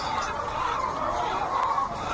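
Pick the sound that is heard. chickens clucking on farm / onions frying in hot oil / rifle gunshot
chickens clucking on farm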